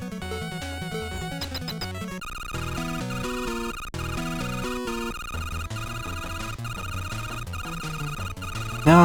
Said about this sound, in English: Now it sounds like Base has a phone call.